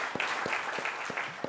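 Brief audience applause at a solar storage conference, a soft wash of clapping under a few louder, regularly spaced thumps.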